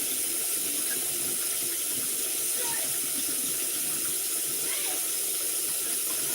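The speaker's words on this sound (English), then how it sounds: "First he needs to wash his cup." A cup is washed under a running kitchen tap, with a steady loud hiss of flowing water throughout and small splashing changes.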